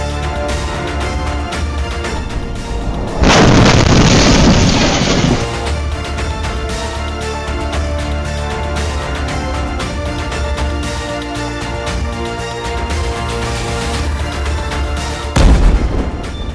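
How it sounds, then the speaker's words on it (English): A sudden loud blast erupts, a roaring burst of noise lasting a couple of seconds before dropping away, followed later by a second sharp boom. "Wow, an earth-shattering explosion."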